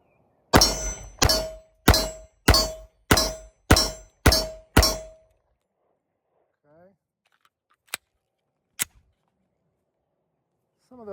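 Eight sharp, evenly spaced pistol shots from an H&K 45C at a shooting range ring out loudly in quick succession, followed by quiet with a couple of faint clicks and knocks.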